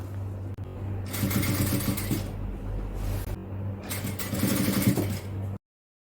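A sewing machine runs in two bursts of rapid mechanical stitching, stopping briefly between them, as pleats are sewn into a waistband of cloth; a steady low hum sits underneath, with no talk.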